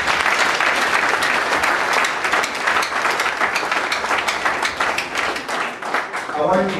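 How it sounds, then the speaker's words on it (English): A congregation at a deliverance service claps for Jesus, a loud, sustained burst of many hands with sharp individual claps standing out, easing slightly before a voice comes in at the end. "Clap for Jesus."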